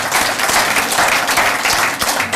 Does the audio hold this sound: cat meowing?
no